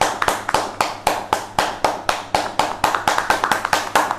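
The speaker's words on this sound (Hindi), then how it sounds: "सो जोरदार तालियां हो जाए इन सभी के लिए" Steady, close rhythmic clapping of a few hands, sharp evenly spaced claps running throughout, with no talk, given for award winners of an online public speaking competition.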